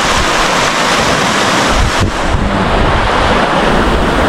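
Steady roar of large ocean waves with heavy wind buffeting the microphone, loud and continuous, no voices.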